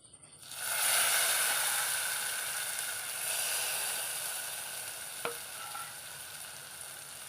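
Fried coconut is stirred into jackfruit elissery in a pan over low flame, setting off a bright hissing sizzle that flares up and then slowly settles, with one sharp knock of the spoon near the end.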